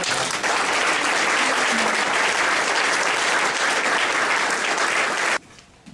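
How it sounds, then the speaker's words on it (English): A crowd at a fundraising campaign celebration gives a long, loud, sustained round of applause for donor companies, the clapping holding steady for over five seconds before dropping off abruptly. "Let's have a huge round of applause for Aegon and Rock."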